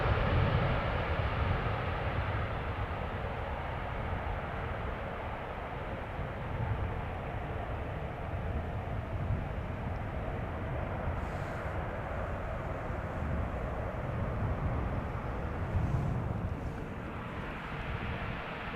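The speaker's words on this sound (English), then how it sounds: "Delta Airlines Flight 57 to Salt Lake City. It is an A330 Neo." Delta Airlines Airbus A330neo jet departing Amsterdam Schiphol, a broad, sustained roar heard from some distance, steady throughout with faint wind noise.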